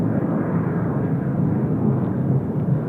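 A Jeju Air airliner at Seoul Incheon Airport gives off a steady, loud, broadband engine roar that holds evenly throughout with no voices over it.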